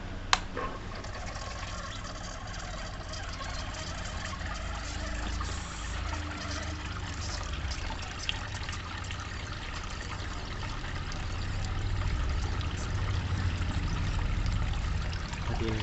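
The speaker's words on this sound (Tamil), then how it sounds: "இப்போ தண்ணி மோட்ரு போட்டுக்கலாம்." A small water motor runs in a homemade air cooler built from an old 20-liter bucket, with a steady trickling, splashing flow over a constant low hum that swells slightly toward the end.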